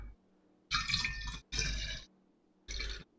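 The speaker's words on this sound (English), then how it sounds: "Just have some water because I'm" Three separate bursts of gulping and pouring water, each lasting about half a second, close and clear against near silence, with no talk.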